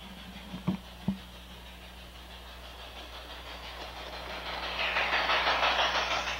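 An LGB garden-scale model train engine runs along its track in a continuous steady hum with a couple of sharp clicks early on, the rolling noise growing louder and rhythmic as it draws near.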